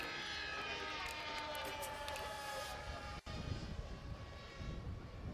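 Two propeller aircraft fly together in close formation at an air show, a steady broad engine drone holding at moderate distance throughout, with a brief dip midway and faint voices mixed in.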